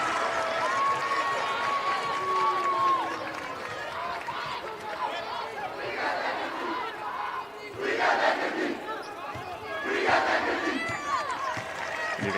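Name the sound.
Bishop Heelan student section cheering at a girls' basketball game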